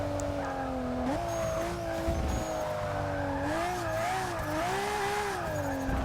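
A Nissan 350Z Fairlady racing in Forza Motorsport 6 at Catalunya, its engine droning steadily and loud, pitch stepping up through gear changes and swelling and dipping through corners, with faint tire squeal.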